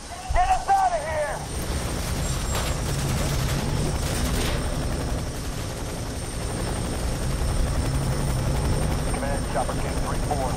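A helicopter in the video game FEAR 3 drones on steadily with a whirring rotor hum, while voices speak and shout over it through most of the clip.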